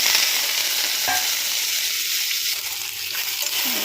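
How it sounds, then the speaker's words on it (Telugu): Okra pieces and curry leaves fry in a hot tempering of oil and garlic, giving a loud, continuous sizzle with occasional stirring scrapes. There is no speech. "తాలింపు అయితే కాలింది బెండకాయ ముక్కలు కరివేపాకు వేసుకున్నాం"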